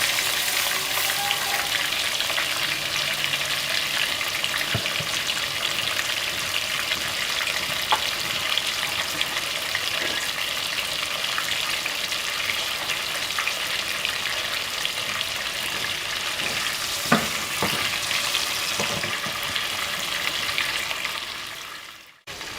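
Pieces of meat or vegetables fry in hot oil for biryani, giving a steady, loud, continuous sizzle with faint clinks and stirring noises throughout until it fades at the very end.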